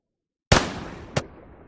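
Two sharp gunshot sound effects ring out after a moment of silence: one loud crack with a decaying tail, then a second slightly quieter shot just over half a second later.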